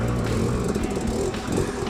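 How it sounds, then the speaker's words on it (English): A dirt bike engine running on old gas chugs unevenly up close, a rough, steady low rumble with faint irregular sputters and no voices. "That old gas is chugging."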